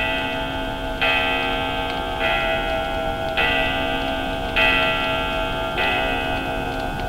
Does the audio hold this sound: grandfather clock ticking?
yes